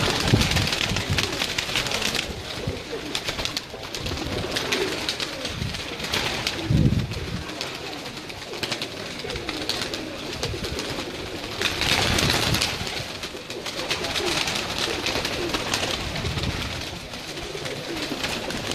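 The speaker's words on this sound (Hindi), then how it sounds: "तमाम दोस्तों की स्क्रीन पर ये कबूतर आ रहे होंगे" Migratory pigeons cooing on a rooftop in Kasur, heard as steady close bird calls over a constant noisy outdoor background with no voices.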